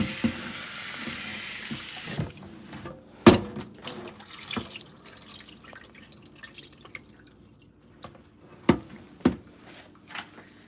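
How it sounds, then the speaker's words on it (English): Cold tap water runs into a sink as turkey necks are rinsed, first a brief steady stream, then scattered drips, splashes and handling clatter at close range. "I'm gonna rinse it one more time with cold water"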